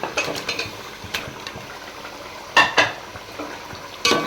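About half a kilo of chicken pieces dropped into a hot pan for chicken pulao, with sizzling and scraping stirs, several sharp clatters of metal near the start and end.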